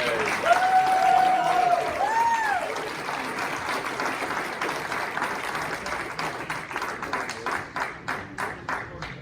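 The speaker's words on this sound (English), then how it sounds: "how about a nice round of applause for the Cowboy Bob." Audience applause at a Hall of Fame induction ceremony, a steady wash of clapping from a crowd that fades into a few scattered individual claps at the end, with a brief voice or tone early on.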